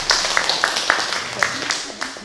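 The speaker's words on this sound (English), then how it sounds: "You hear that applause?" Audience clapping after a sermon-style talk, a dozen or so sharp, scattered claps in loose rhythm, fairly close and bright, with no voices over them.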